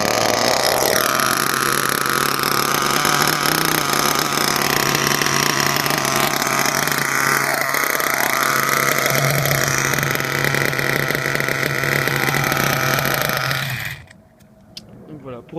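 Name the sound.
nitro RC car engine running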